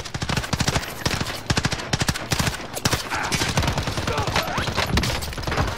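Gunfire in the Call of Duty Warzone video game, with an UZI mentioned, comes as rapid automatic bursts and quick single shots in close, loud clusters. Players talk over the shooting.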